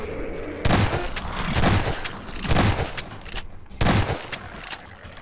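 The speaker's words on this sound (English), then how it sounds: "There's my shotgun." Shotgun blasts from the video game Half-Life 2, four loud, evenly spaced booming shots, each with a short decaying tail, over a steady background hum.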